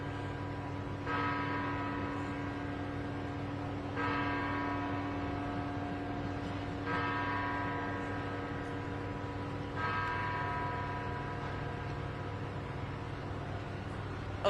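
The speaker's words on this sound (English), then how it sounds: "I'm going to let the bell finish ringing because I want you to hear every word" A church bell tolls slowly near an outdoor press gathering in Minneapolis, sounding four resonant strikes about three seconds apart. Each strike rings out and fades over a steady low background hum.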